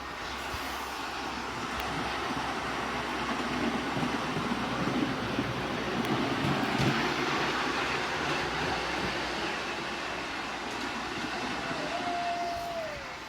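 A miniature railway train at a model engineering club rumbles steadily past with continuous rattling clatter, rising slightly then fading, ending with a brief whistle-like tone.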